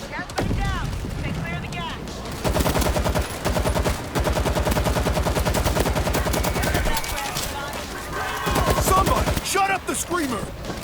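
Rapid bursts of automatic gunfire in the World War Z video game, set in New York, loud and sustained over several seconds with brief pauses, mixed with game effects and a voice talking over it.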